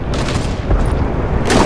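A sniper rifle shot in Fortnite, heard as a loud, booming report that fills the whole moment with a dense, rumbling roar, with no voices over it.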